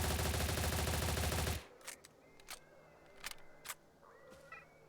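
Rapid automatic fire from an HK MP5 submachine gun in a video game, a loud dense burst that cuts off abruptly, followed by quieter sharp clicks and metallic handling sounds.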